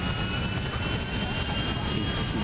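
Airplane flying in the video game GTA 5, a steady, loud jet-engine roar with broadband rumble that holds continuously without a break and no voices over it.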